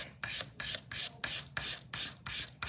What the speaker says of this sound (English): So I'm using this dark compressed charcoal, and you're going to rub it on the back.